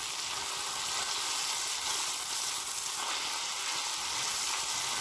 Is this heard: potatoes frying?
yes